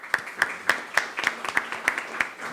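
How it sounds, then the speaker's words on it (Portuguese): Applause at a panel discussion event on sports law, a single person's sharp, evenly spaced hand claps, about three per second, heard close and alone. "E peço uma salva de palmas."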